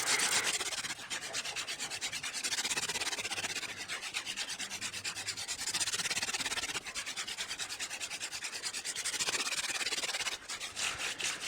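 A wooden hand drill spindle grinds rapidly against a wooden fireboard for friction fire, producing a steady, close raspy rubbing in continuous back-and-forth strokes with brief pauses.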